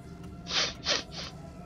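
A person sneezes in a quick cluster of three sharp, breathy bursts over about a second, fairly close and fairly quiet, with no talking.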